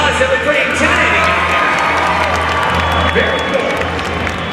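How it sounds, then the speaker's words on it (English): An indoor convention audience at a Harry Potter props showcase applauds and cheers, a dense steady wash of clapping with whoops and shouts throughout. "let's give a round of applause"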